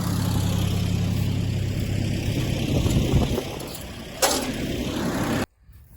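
An old blue tractor engine runs at a steady idle close by, a continuous low rumble that holds for several seconds before cutting off abruptly near the end.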